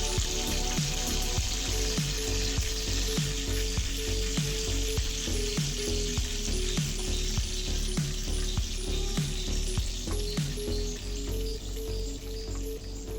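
Pomfret fish fries in a pan, restaurant style, giving a dense, steady sizzle with scattered crackles and pops throughout, close and alone.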